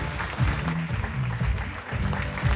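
An audience at a wedding fashion show gives sustained applause, with steady clapping filling the room at moderate distance and a few soft bumps and voices underneath.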